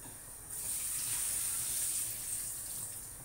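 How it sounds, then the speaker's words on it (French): Oxtail meat rinsed under a running kitchen tap: a steady, moderately quiet splashing stream of water starts after a brief pause and keeps flowing, heard close with no one speaking. "Là, je suis en train de rincer la viande"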